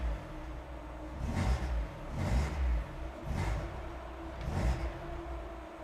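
Mazda Miata engine sitting at a very low idle, a steady close rumble with slow surging swells roughly every second, no voices over it.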